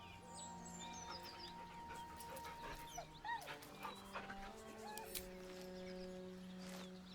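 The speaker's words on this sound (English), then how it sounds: "The dog whimpers nervously" A dog whimpers nervously in Baldur's Gate 3, with soft whines and yips at moderate distance set against a sustained, tonal game backdrop.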